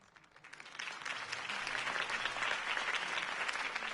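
Applause from a crowd in the video game Batman: The Telltale Series swells up quickly and holds steady, a dense wash of many hands clapping at once.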